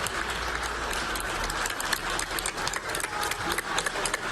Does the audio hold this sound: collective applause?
yes